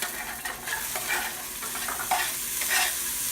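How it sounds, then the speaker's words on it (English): Onions and carrots sizzle in hot oil in a pan, a steady close crackle broken by stirring scrapes and bursts of hissing, with no talking. "Put our onions and carrots in here."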